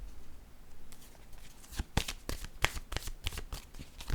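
Tarot cards being shuffled by hand in a quiet room, a series of soft, crisp riffling slaps and flicks in quick irregular bursts, fairly faint and close.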